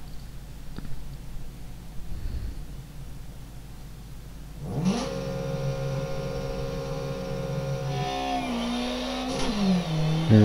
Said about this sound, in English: Here we are, travelling with the Opel Manta GT 400